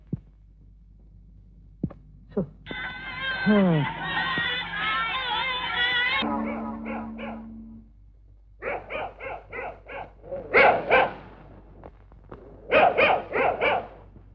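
A dog barks in repeated short bursts after a long, wavering howl-like cry, with quiet gaps between the barks; no talking.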